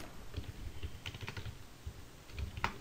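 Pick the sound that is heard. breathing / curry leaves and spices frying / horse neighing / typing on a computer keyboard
typing on a computer keyboard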